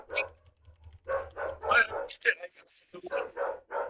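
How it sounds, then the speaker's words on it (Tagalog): A dog barks and yips in short bursts, fairly close, overlapping with a person talking. "Tapos tuloy ng tahol ng aso."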